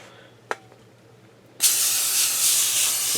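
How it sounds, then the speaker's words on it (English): Canola oil cooking spray hisses steadily and loudly onto a doubled sheet of foil for meatloaf, following a quiet stretch with a single click. "I'm going to spray it down with a little canola oil."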